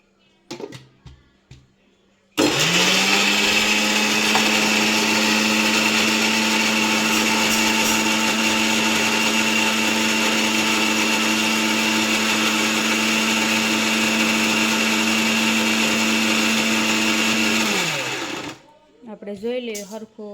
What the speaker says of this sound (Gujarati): તો હવે આપણે એને ગ્રેવી બનાવે છે એટલે મિક્સરમાં વાટી લઈશું